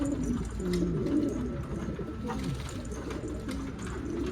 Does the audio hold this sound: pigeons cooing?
yes